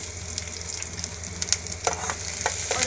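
Onion and garlic sauté in oil in a pan with a close steady sizzle and crackle, punctuated by several scraping stirs and clicks that grow a bit louder toward the end, with no talking.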